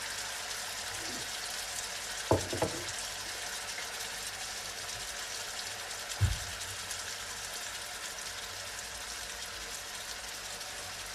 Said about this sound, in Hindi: इसको 5-7 मिनट के लिए भूनेंगे।